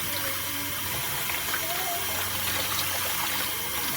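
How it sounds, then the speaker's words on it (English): Water gushing steadily from a tap to rinse out a portable coffee maker in a sink, a continuous close rush of splashing with no pauses. "So just rinse this out now."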